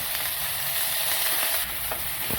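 Oil sizzles steadily in a pan of roasted dried coconut, green chilies and garlic, a close, continuous frying hiss with soft scraping stirs throughout and no voices.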